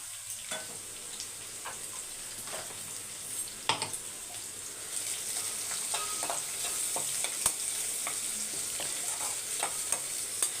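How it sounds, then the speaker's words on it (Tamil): Small onions (shallots) fry and sizzle in a pan for chicken 65 biryani, a steady hiss broken by occasional scrapes and taps of stirring, close and continuous with no talking. "ஒரு 125 கிராம் சின்ன வெங்காயம் நல்லா வதக்கிக்கணும்"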